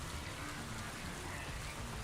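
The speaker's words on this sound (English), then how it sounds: "Wait, is it raining in game?" Steady rain hisses faintly in the Mass Effect 3 multiplayer video game, an even wash of soft patter with no other sounds.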